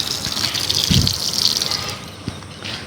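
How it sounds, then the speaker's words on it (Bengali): Water pours into an already full black storage tank fed by a pump, a continuous close gushing splash with a brief heavier surge, then thinning near the end. "এই যে জল পড়ছে এটাতেও"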